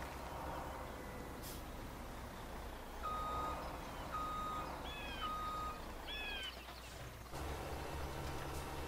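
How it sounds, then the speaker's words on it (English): A truck in Farming Simulator 17 reverses with a series of short electronic beeps sounding over a low engine idle, alongside faint birdsong-like chirps and an air-brake hiss. "So we move the truck out of the way again"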